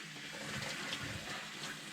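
Powerful water jet from an Oxygenics Fury shower head spraying in a shower, a soft continuous hiss and splatter, fairly quiet and without speech.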